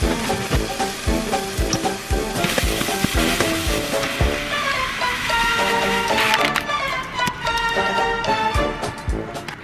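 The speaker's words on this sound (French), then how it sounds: "Pendant que mon risotto cuit" Risotto cooks in a pan with a steady sizzle and occasional stirring, partly masked by music playing loudly over it throughout.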